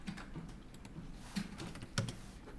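Keys on a computer keyboard tap lightly in a quiet room, with a few sharper, heavier keystrokes standing out among softer clicks.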